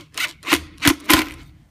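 Four gritty rasping bursts as a screw is driven into wormy maple wood while hanging a wood safe door, each turn a short scraping squeak in an uneven rhythm, close and alone.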